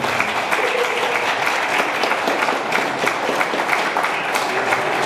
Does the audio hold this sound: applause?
yes